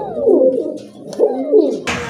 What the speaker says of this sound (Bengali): মাশাআল্লাহ এক জোড়া শর্ট ফেস কবুতর দেখেন